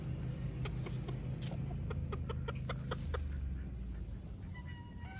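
Chickens clucking in the shade on a rural homestead, a series of quick close clucks in a rhythmic run over a low steady background hum, with no talk.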